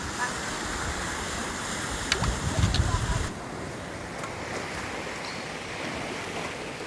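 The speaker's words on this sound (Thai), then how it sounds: "ทะเล" Sea waves wash onto a sandy beach in a steady, broad surf rush, louder in the first few seconds and then softer and more even.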